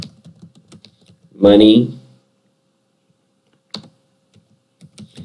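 Keys clatter on a computer keyboard as a search query is typed, with quick soft clicks scattered between stretches of a man's speech and one louder burst of sound.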